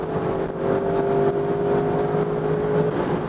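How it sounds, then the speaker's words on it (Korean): An Audi RS6 Avant, a 600-horsepower wagon, accelerating hard with kickdown, heard as a steady, rising engine drone with tonal whine under road rumble from inside the car, no talk. "킥다운 버튼이 있네요. 쭉 가속 페달을 밟으면"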